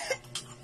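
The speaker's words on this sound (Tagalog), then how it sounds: "Ubo na. Ubo na," A single short cough, close and soft, followed by quiet.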